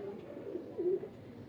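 A golden Rampuri pigeon gives a soft, low coo that rises briefly near the end, with faint murmuring and room noise underneath and no clear speech.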